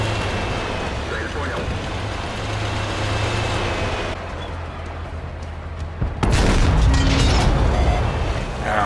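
Tank cannon fire in the console game World of Tanks, heard as a heavy booming blast that bursts in near the end over a constant rumbling engine and battle ambience, loud and close.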